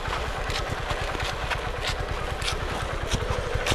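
A small motorcycle with no brakes runs steadily close by, its engine putting out a continuous low, pulsing rumble with rapid regular beats and no speech over it.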